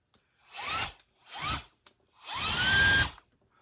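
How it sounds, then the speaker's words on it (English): A small electric air blower, used to clear dust from an iPad Air screen, whirs in three bursts: two short spin-ups and one longer steady blast, each rising in pitch and then winding down, close and alone. "instead of using a can of air, I'm going to use this nifty blower"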